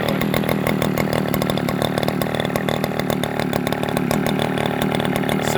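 John Deere 55V battery chainsaw running steadily with a continuous, loud, close whirring drone of the chain and motor, holding an even tone throughout.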